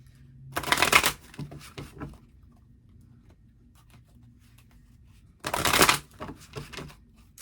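Energy Oracle cards by Sandra Ann Taylor are shuffled in two quick riffling bursts, close and crisp, each followed by softer card handling and light taps in an otherwise quiet room.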